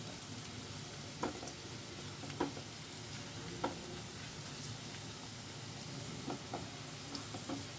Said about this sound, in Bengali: 1 টিস্পুন বেসন। তেলে খুব ভালো করে ভেজে নেব